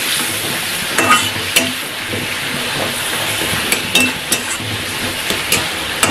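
Fish head simmering in a spiced masala with water added, a steady low bubbling and sizzle from the pan with occasional spoon scrapes and knocks, close and fairly loud with no talk.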